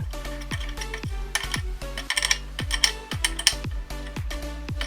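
An 18mm open-end wrench works a bolt on a QuickJack lift, giving a steady run of metallic ratcheting clicks and clanks with a low rhythmic ring, close and fairly loud with no talk.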